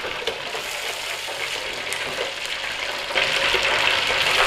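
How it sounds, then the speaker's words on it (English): Battered fish deep frying in hot oil until golden brown, a steady close broadband sizzle and crackle that grows louder and busier toward the end, with no talking. "Now all we're doing with the fish, we're just cooking till we've got that nice golden brown that we like on our fish batter."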